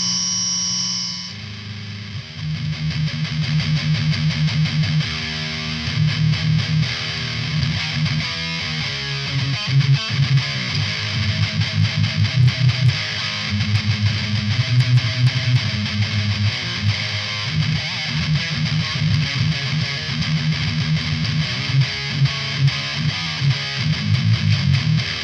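An electric guitar plays through a BOSS Mega Distortion pedal, giving heavily saturated, sustained chords and riffs with a dense, buzzing tone, loud and continuous throughout.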